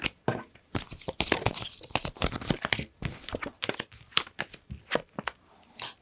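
Tarot cards are drawn and handled up close, giving dense crisp papery snaps, riffles and crinkling bursts that come quickly one after another with short gaps, with no speech.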